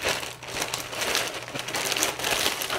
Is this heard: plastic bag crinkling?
yes